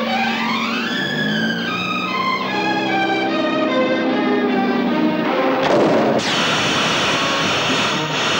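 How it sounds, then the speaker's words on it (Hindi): A sharp, loud bang, then a second burst, as a jeep engine backfires close by, cutting through steady background music. "जब से ये जीप बनी है आज पहली बार इसका पटाखा चला है"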